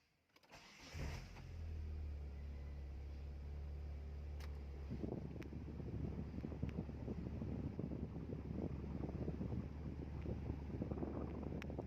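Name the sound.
Proton Wira car engine running with air conditioning on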